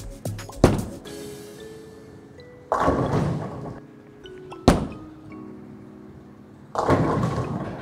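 A Motiv Raptor Rush bowling ball thrown down an alley lane, heard as sharp thuds at release followed by rolling rumble and crashing pin hits, repeated for about two shots, fairly loud with no talking.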